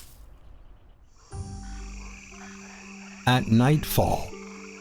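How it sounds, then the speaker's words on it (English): Tree frogs croaking at nightfall in a lush Chinese canyon, one of the densest tree-frog areas in China: a quiet start, then layered, buzzy, harmonic croaks swell in and overlap, with a narrator speaking over them. "This region has one of the highest densities of tree frogs in China."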